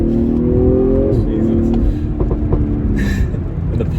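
A 2020 BMW M340i sedan engine revs loudly nearby, then drops off with a few sharp popping crackles from the stock exhaust as the revs fall.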